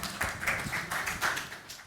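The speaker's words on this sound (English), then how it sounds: "So please give a warm round of applause." Audience clapping greets speakers at a business fireside chat, a steady spread of many hands patting at moderate loudness with no talk over it.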